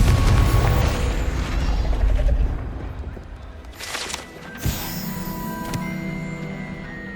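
The Confringo explosive spell in Hogwarts Legacy bursts with a booming blast, then a second sharp crack and clattering debris, with a lingering magical ringing afterwards.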